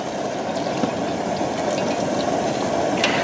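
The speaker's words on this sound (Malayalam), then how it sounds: "ചിക്കൻ പൊരിച്ച് എണ്ണ ഒഴിച്ചു കൊടുക്കുവാണേ" Oil left from frying chicken is poured into a pan to start a gravy, a continuous liquid pouring and gurgling heard close and steady throughout, with no talk over it.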